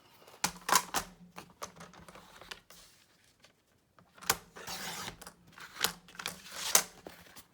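Scissors cutting across a sheet of paper for a journal, close crisp snips and rustles in two clusters separated by a quiet pause, alone without talk.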